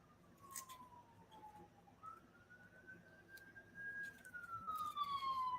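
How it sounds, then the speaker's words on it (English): A police car siren wails past at a distance, its tone sliding down, jumping back up and falling again as the sound grows slightly louder, faint against quiet room background. "As a police car goes by."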